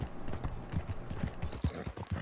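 Horse hooves clip-clop in a steady trotting rhythm, close and distinct over a busy background of ambient game noise in Red Dead Redemption 2.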